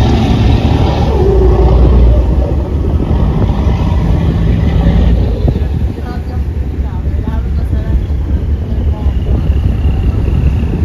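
Cold wind blowing across the deck of a ferry at sea, a loud continuous roar buffeting the microphone, mixed with a steady engine drone, easing slightly partway through.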